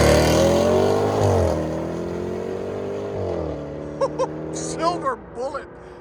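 A 2022 Range Rover SVR 5.0L supercharged V8 with an X-pipe and resonator delete rumbles loudly with falling engine pitch as it coasts down. Later the exhaust quiets and people talk and whoop briefly.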